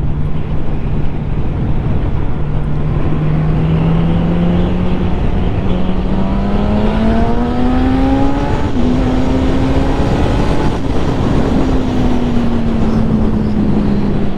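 A 2020 Suzuki GSX-S 1000 motorcycle accelerates in fourth gear, its engine note rising steadily as it pulls, heard close over constant wind rush with no talk.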